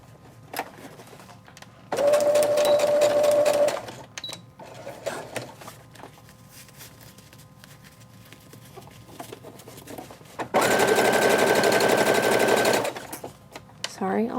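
Home sewing machine stitching a 1/8 inch line around the tummy snaps of a one-size flex-fit cloth diaper, in two steady whirring bursts of about two seconds each with quiet handling between them.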